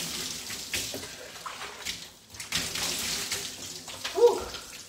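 Water runs and splashes while natural hair is rinsed during a wash, a close, uneven spattering flow with brief lulls and a faint voice near the end.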